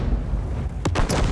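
A Type 5 Heavy tank gun fires in World of Tanks: one deep booming shot rolls out under a low rumble, followed by a brief bright metallic crack of impact.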